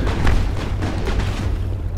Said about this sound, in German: Sorry, Shepard, aber es gibt keinen Preis für die meisten Schüsse.